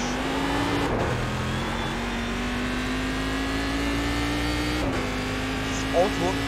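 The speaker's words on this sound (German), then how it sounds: "Das Auto hat keine Traktion, es hat keine Bremse, es hat nichts. Es ist ein Dragster, glaube ich." A dragster with no traction and no brakes revs and accelerates in a long, steady engine drone that climbs in pitch, briefly resets, then climbs again, with an excited voice over it.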